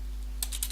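A few quick, light keystrokes on a computer keyboard come in a short burst after a near-silent moment, faint against a steady low hum.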